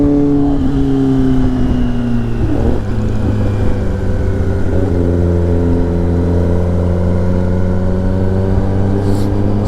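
A group of sport motorcycles, including a Honda Fireblade, Yamaha R1, Kawasaki ZX10R, Gixxer and Harley, rides a canyon road, their engines droning steadily and loudly with shifting pitch as they cruise together.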